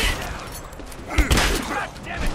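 Gunfire in Rise of the Tomb Raider, a dense, loud rattle of shots and thuds under continuous shouting voices.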